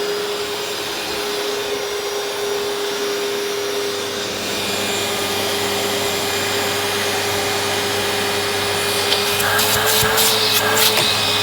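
A black Eureka Victory vacuum cleaner runs continuously nearby, a steady loud whine with a constant hum, and a few rattling knocks appear near the end.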